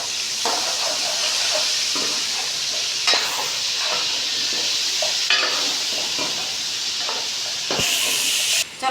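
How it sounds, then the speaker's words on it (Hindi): Chicken pieces frying in a kadai, a steady loud sizzle and hiss with occasional stirring scrapes and clatters throughout. "अच्छी तरह से फ्राई कर लेंगे हम चिकन को"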